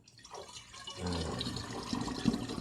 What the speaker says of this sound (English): add our water kefir to our bottles